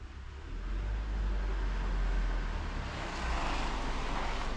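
A ute driving along a beach, its steady engine drone rumbling low and fairly loud throughout, swelling slightly as it passes, with no talk.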